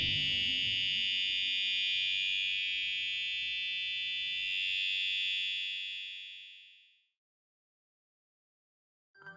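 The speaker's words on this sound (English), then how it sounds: "a midnight fire alarm at the Canadian hotel welcomes the team into match day" A hotel fire alarm sounds at midnight in Canada, a loud continuous high-pitched electronic tone holding for several seconds before cutting off, followed by silence and a brief faint click.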